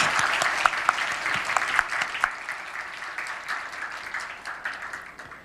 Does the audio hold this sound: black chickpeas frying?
no